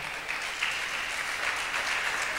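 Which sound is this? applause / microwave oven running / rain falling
applause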